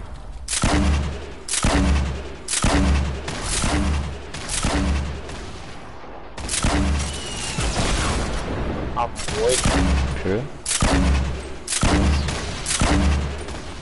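Repeated bursts of heavy automatic gunfire from a golden minigun in the video game Fortnite, long rattling volleys separated by short pauses, loud and close, with faint voices underneath.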